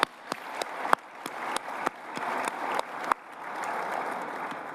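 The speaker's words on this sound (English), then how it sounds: "Please, let's give them a round of applause." Luncheon audience gives a round of applause, starting as scattered sharp individual claps that quickly swell into a sustained, fuller wave of clapping, fairly close and loud.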